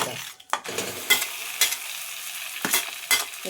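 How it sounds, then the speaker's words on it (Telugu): Oil tempering with curry leaves added sizzles steadily for a gongura meal maker chutney, with a few sharp spoon-stirring scrapes and clinks breaking through the close, continuous frying hiss. "తాలింపు వేగింది, కలమాకు వేసిన"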